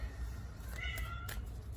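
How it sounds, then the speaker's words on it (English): A cat meows softly nearby, a short call over a low background hum. "My cat says hello."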